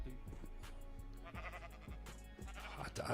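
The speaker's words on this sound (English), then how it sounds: "All the sheep have come out." Sheep bleating in the video game Minecraft: several nasal, wavering bleats in quick succession, some overlapping, close and moderately loud over a low steady background.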